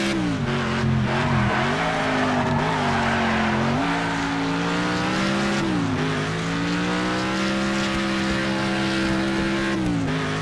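A car slides and skids in The Next Car Game during a race or derby, with a loud continuous engine whine and tire squeal that bends in pitch as it drifts.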